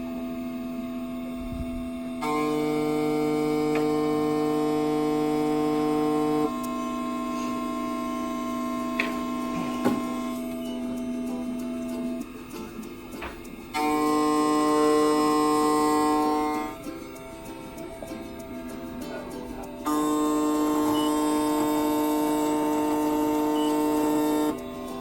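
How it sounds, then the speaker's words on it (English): A Mini Condor Plus key machine runs a calibration cut, its motor whining in distinct bursts that switch on and off several times, separated by quieter stretches of low electrical hum. "Okay, so now it's about to start cutting. This is cutting"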